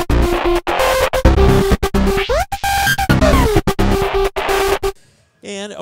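A cutting-edge synth patch from Spectrasonics Omnisphere 1.5 stutters in chopped, gated bursts with rising and falling pitch sweeps, then drops to a faint warbling tail at the end.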